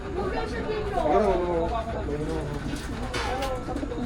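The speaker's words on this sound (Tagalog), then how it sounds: "Ito yung mga ibon." Soft cooing and chatter from racing pigeons being loaded before a race carries under nearby voices and a busy background murmur.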